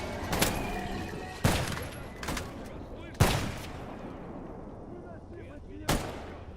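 Gunfire rings out in the video game GAMMA: four loud, separate shots with echoing tails, spaced a second or two apart and heard close.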